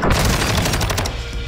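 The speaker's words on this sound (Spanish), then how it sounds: "No subestimes el hip fire o disparo desde la cadera." Hip-fire gunshots in the shooter Warzone, a rapid burst of loud, close automatic shots in quick succession that fades toward the end, with no talk.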